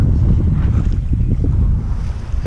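Wind on a Twister sailing boat at sea, a loud, steady buffeting roar with low rumbling gusts and some water wash, continuous for a few seconds with no talking.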